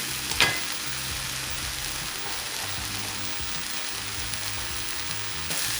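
Rice toasting in a pan for vegan mushroom risotto gives a steady, close sizzle and crackle that runs unbroken from start to finish, with a few soft stirring scrapes and nobody speaking.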